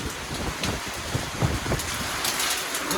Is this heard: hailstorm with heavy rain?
yes